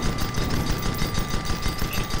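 Rapid enemy airship gunfire in the steampunk sky-battle game Guns of Icarus Online, a dense, continuous burst of repeated shots with no talk over it.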